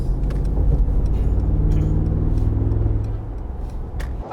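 A Mercedes G63 AMG engine accelerates up close with a deep, throbbing rumble and a rapid, loping pulse like a motorcycle, steady and loud before it eases slightly near the end.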